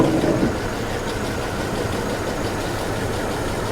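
A car engine runs roughly at idle, a steady, close, uneven mechanical drone that carries on without pause and without voices.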